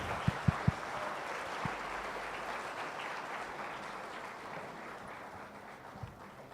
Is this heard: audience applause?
yes